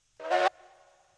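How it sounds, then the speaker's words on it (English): A steam locomotive in the railroad game Railroads Online sounds one short whistle blast, a loud, breathy, chord-like tone lasting about a quarter second, followed by a faint lingering hiss and ringing tail. "So it's a short whistle again."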